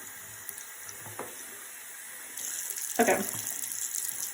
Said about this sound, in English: Maybe add a little bit more water.